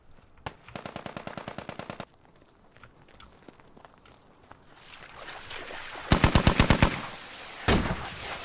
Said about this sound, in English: That rocket artillery looks so cool. Artillery is hitting our own